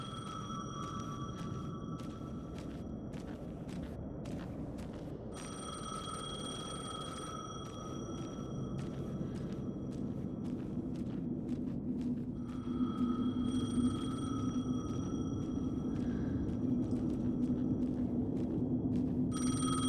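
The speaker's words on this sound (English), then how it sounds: "The phone again." A telephone rings in the survival-horror video game Alan Wake 2, its bright electronic trill repeating in several long bursts over a steady low ambient rumble, with no talking.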